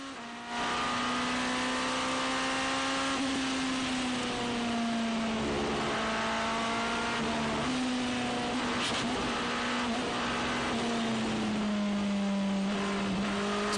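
Lamborghini race car at the WEC round in Qatar, its engine holding a loud, steady rising-and-falling drone with rich harmonics for the whole stretch, close and continuous with crowd and track noise behind and no talk.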